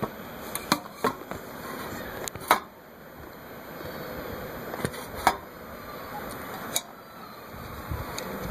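Scattered metallic clicks and snaps from a folding camping utensil multi-tool from a mess kit being opened, close up, with faint background noise between the sharp ticks.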